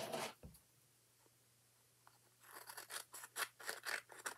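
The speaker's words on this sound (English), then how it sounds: "I'm going to cut this roughly the same size." Scissors cutting paper for a scrapbook, one snip near the start, then a quiet pause with a low hum, followed by a run of rapid close crisp snips that continues to the end.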